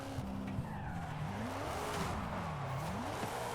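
A Buick Regal GNX drifting on a donut test track in Forza Horizon 5, its tires squealing in long wavering sweeps over a steady engine drone, loud and close, with no speech.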